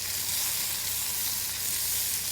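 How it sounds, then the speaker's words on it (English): Marinated steak pieces sizzle steadily in a hot pan for a spicy Mexican steak bowl, a loud, continuous frying hiss with no talk over it. "Making sure every piece is touching the pan so they get the nice"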